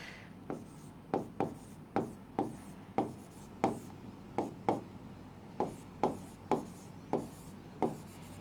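Pen or chalk strokes sound as math is written out, a series of quick sharp taps and short scratches at a steady, slightly uneven rhythm, close and quiet with no talk.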